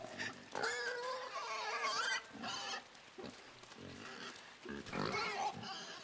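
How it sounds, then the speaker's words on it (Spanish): Pig grunting in the video game Inside: repeated loud, close grunts and snorts in uneven bursts across the whole stretch, with short pauses between them. "Tengo que esquivar al cerdo este"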